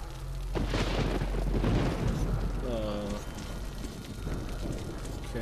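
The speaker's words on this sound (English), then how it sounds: "Shotgun." A booming shotgun blast in the video game Metro Last Light, a single heavy burst with a rumbling tail that rolls under a steady game backdrop.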